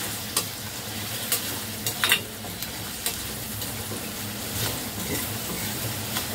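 Cabbage with turmeric being sautéed and stirred in a pan, a soft continuous sizzle broken by a series of brief, sharp scraping clicks from the spatula.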